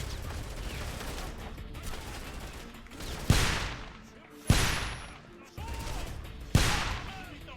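Gunfire in a shooter video game during a fight against turrets: three loud, sharp bursts ring out a second or so apart over a steady crackling, rumbling battle backdrop.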